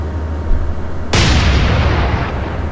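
A warship's guns fire at merchant ships in Atlantic Fleet with a single sudden loud boom that rolls on as a long, fading rumble over low steady background noise.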